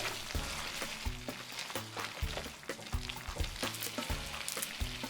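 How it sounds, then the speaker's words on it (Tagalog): Fried eggplant stirred into a simmering pasta sauce for pasta alla Norma: a steady sizzle with repeated scraping stirs, over a low tonal background hum. "I-join na rin natin ang fried eggplant. Halu-haluin."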